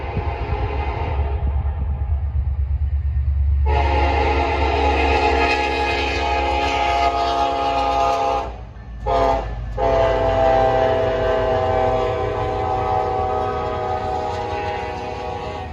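A train rumbles past with a loud, sustained horn blast that cuts out briefly and resumes, over steady rolling wheel noise.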